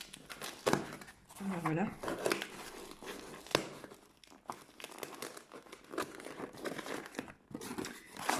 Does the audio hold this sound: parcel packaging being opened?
yes